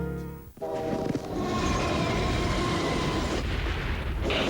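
A train sound effect in a Polish TV advert: a loud horn blast opens, then a dense, steady rumble of rolling rail noise fills the rest, with no voices.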